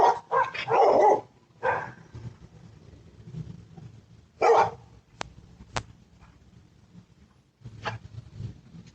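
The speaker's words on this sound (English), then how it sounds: "Those poor dogs." Several dogs bark in scattered bursts, a few sharp barks close together near the start and then isolated barks further apart, over low background noise.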